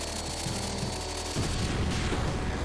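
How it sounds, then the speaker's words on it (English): Explosions go off in Final Fantasy VIII, a dense rumbling burst of booms and crackling blasts that shifts into a rougher roar partway through, moderately loud with no speech. "Why did everything explode?"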